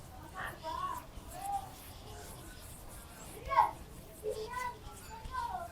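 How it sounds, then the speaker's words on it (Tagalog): Noisy children chatter and call out in the background during a nighttime skincare routine, with scattered, fairly faint voices rising in brief bursts. "Ang ingay ng mga bata, as in."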